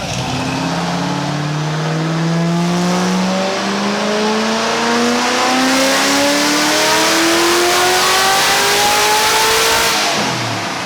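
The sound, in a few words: Procharger supercharged 427 engine revving on dyno pull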